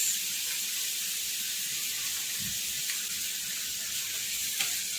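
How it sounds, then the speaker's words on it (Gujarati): Vegetables sizzle in a pan with Schezwan sauce, making a soft, even hiss that carries steadily throughout with only a faint clink or two. "શાકને આપણે અધકચરું શેકવાનું છે હવે એમાં એક ચમચી શેઝવાન ચટણી એડ કરીશું"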